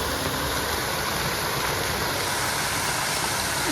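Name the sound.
waterfall on the Fraser Coast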